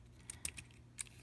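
Small plastic clicks come from the wheels of a Transformers The Last Knight Deluxe Sqweeks toy being folded, four quiet, sharp snaps spaced unevenly over about a second, close and alone.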